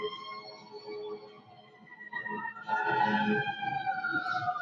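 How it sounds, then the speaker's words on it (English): Wailing sirens rise and sweep in the background, growing louder partway through, with a low murmur underneath. "Seems like it because them sirens loud as hell."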